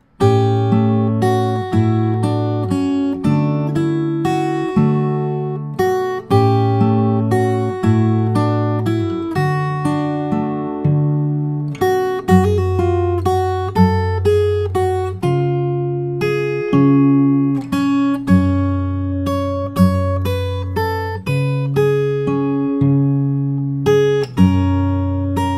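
Fingerstyle acoustic guitar plays the Howl's Moving Castle theme from the start through the first part of the B section: a steady, flowing run of plucked chords and melody notes, close and clear, with no voices.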